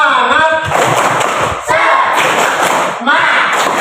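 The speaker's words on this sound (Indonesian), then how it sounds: "Kita kasih tepuk biar semangat" A school class performs a rhythmic spirit clap in a civics lesson, loud group claps and thumps in short bursts, with voices chanting along between them.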